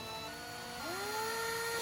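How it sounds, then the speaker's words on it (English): A small power drill bores into the side of a resin robot miniature with a steady, faint whine that rises in pitch partway through as it spins up. "start drilling into the side of this robot"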